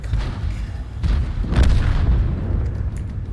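An artillery shell explodes in the World of Tanks video game: a loud, deep boom with rumbling low-end impacts, one near the start and a heavier blast around mid-clip, trailing into a sustained battle rumble.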